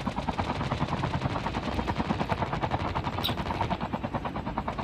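Rapid bursts of automatic gunfire from a shooter video game, with fast evenly spaced shots ringing out loud and close, without a break, for the whole stretch.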